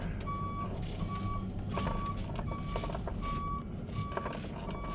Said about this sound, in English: They're totally on board with this backup beeper.